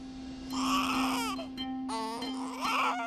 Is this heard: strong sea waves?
no